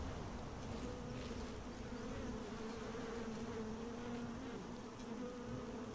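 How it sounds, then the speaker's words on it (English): Steady, continuous buzzing of bees in the video game Skyrim fills the scene at a moderate level, with no voices. "Now we hear some bees."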